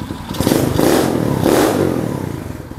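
A Mini Trail HSX 110 manual-clutch children's trail motorcycle revs nearby, with two loud surging throttle blips over a rough mechanical clatter and no speech.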